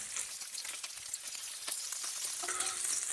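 Turkey bacon frying in grease in a pan on a burner, a soft, steady sizzle with crackles and pops throughout, close but quiet, with no talk.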